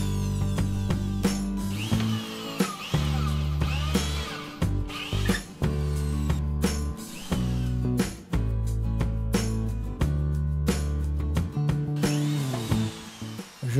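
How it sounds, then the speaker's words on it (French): A power drill bores a hole to seat an anchor bolt head and washer during a covered-terrace conversion, its loud motor whine running in repeated bursts with brief stops and restarts. "Je perce pour loger la tête et la rondelle du boulon d'ancrage."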